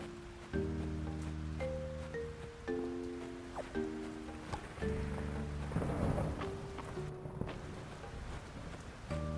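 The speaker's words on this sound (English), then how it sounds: "I love a good rain and thunder noise." Rain and thunderstorm ambience from the video game Fields of Mistria: a steady wash of rainfall with a low rumble, layered under soft tonal game music notes that change every second or so.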